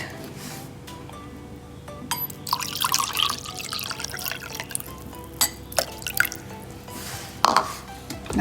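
Warm water poured into a homemade ginger, turmeric and lemon juice, intermittent trickling and splashing that builds into louder pours and drips, close by with no talk.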